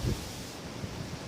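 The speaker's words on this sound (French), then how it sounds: "donc le vent se relève." Wind blowing steadily across the microphone at a carp fishing spot among branches, a broad rushing hiss with gusty low rumble.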